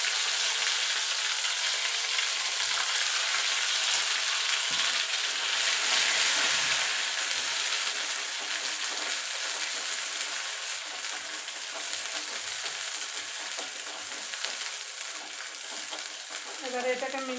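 Mashed vegetable paste sizzles and fries in a generous amount of hot oil, a dense continuous crackle with occasional scraping stirs, alone and steady throughout.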